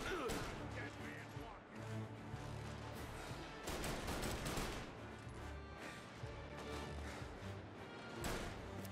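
Gunfire in Mafia: Definitive Edition, a dense run of close shots and bursts of impact spread through the clip over busy game sound, with bits of a voice now and then.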